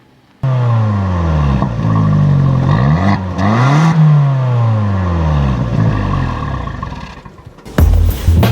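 A 2013 Fiat 500 Turbo engine starts and revs up and down several times, its exhaust rising and falling in pitch, loud and close, with a brief clatter at the end.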